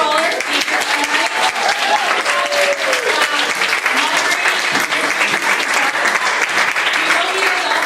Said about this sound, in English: One more continued round of applause for all our speakers tonight.